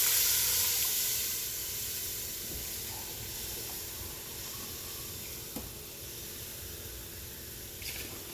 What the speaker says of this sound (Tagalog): So guys, lagyan na natin yung tubig,